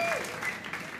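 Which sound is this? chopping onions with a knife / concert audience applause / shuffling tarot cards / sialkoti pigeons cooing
concert audience applause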